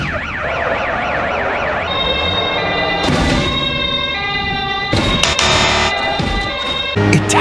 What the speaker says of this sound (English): Sweden police car.